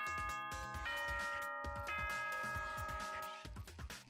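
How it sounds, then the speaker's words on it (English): A school bell chime in the Danganronpa: Trigger Happy Havoc video game rings out in sustained, overlapping bell tones over a faint, busy background, with the tones stopping just before the end. "you hear the ring of the school bell."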